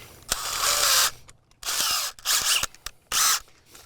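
A drill with a half-inch cold-forged steel bit bores into a deck beam, giving four loud, close bursts of grinding and whirring with short pauses and a few sharp clicks between them.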